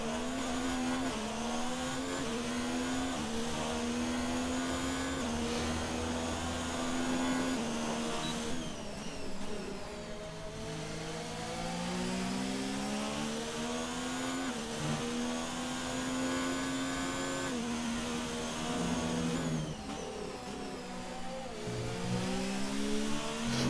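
Racing cars roar around the Bahrain circuit in a video game race, a dense, continuous engine whine with shifting, rising and falling pitch as several cars accelerate and brake.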